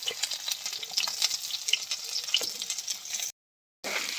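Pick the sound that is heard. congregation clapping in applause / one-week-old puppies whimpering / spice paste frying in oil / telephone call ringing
spice paste frying in oil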